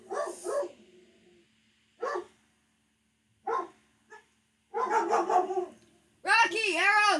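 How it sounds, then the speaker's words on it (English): Two dogs barking indoors in short separate bursts, ending in a loud run of yips and whining barks close by, with someone talking between them. "Oh, they're both barking."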